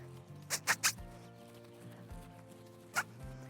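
Young horse plodding slowly on a lunge line, a few clear hoof thuds near the start and another later, with faint low background sounds between.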